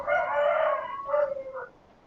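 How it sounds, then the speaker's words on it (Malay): A Serama rooster crows once nearby, a clear drawn-out cock-a-doodle-doo that trails off, heard alone. "Ayam waktu-waktu ni ada yang berkokok eh?"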